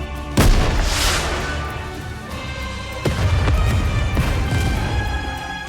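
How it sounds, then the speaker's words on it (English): A rocket launcher shell bursts into a booming explosion over a snowfield in the video game Goddess of Victory: Nikke, with a loud opening blast, a second heavy boom midway and a rumbling tail throughout. "a shell flies from the rocket launcher. And a resounding explosion causes the entire snowfield to be blanketed in thick plumes of white smoke"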